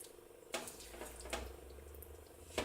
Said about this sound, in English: you can hear the water bubbling underneath, just as a sideline note